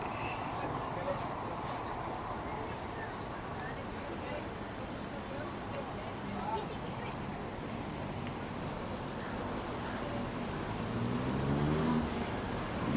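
A double-decker bus at a bus stop by KLCC in Kuala Lumpur in the evening, heard as a steady low traffic rumble beneath constant crowd chatter, swelling slightly near the end.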